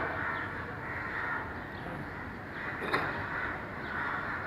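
A flock of crows cawing together at dusk, their overlapping calls forming a constant, moderately loud chorus, with one slightly sharper caw standing out near the middle.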